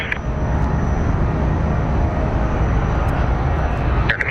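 An Omni Air International airliner descends to land, its broad steady engine roar filling the whole stretch at a constant, fairly loud level with no letup.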